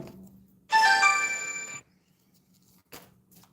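A phone ringtone rings in a single loud, bright burst of about one second, followed by near silence with a faint low hum.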